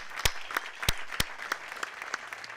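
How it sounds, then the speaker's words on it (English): A small gathering at a housing development dedication gives scattered applause, a handful of sharp, distinct claps standing out over a thin patter of lighter clapping that trails off. "deserves a special round of applause as the project manager"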